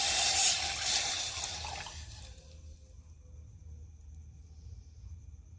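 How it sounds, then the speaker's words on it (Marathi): Water pours into a cooking pot holding ground spice paste and turmeric: a full splashing stream for about two seconds, then it tails off into near quiet with a faint low hum. "आता आपण पातेल्यामध्ये पाणी घालूया"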